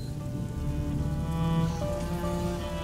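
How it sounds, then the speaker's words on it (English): Rain falls steadily in the video game A Plague Tale: Innocence as a soft, continuous patter on surfaces, with a low ambient drone and no voices. "would you mind if we get out of the rain, please?"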